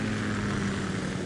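K-60 Kasatka helicopter from the Metal Gear Solid 2 game, a steady, loud rotor and engine drone with a low hum that holds constant and close throughout, with no voices.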